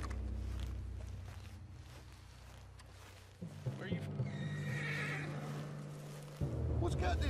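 Horse neighing in the Red Dead Redemption II video game, a whinny rising over background game ambience and hoofbeats, with speech present around it.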